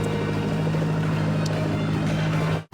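A fishing boat's motor idling and running smoothly, a loud steady low hum with a constant tonal drone that cuts off abruptly at the end, no voices.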